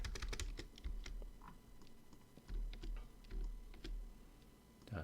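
Commands typed on a computer keyboard: a quick, uneven run of close, crisp key clicks and taps, with short pauses and heavier thumps between bursts, without any voices.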